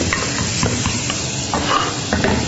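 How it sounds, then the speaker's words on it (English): Smoked bacon frying in a pan, a dense, close sizzle with quick stirring scrapes of a utensil running throughout, no voices. "We're going to add the smoked bacon. Okay, and just cook that for a couple of seconds."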